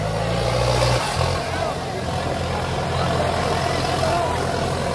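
A 120 hp tractor pulling two 34-disc harrows revs hard in a field, a loud steady low engine drone with a brief revving surge near the start, while someone talks over it.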